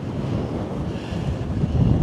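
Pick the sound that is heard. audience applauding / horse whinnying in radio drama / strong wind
strong wind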